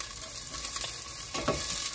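Garlic dropped into very hot oil for sautéing, a soft, even sizzle with a couple of brief stirring scrapes near the end, quiet and without talk.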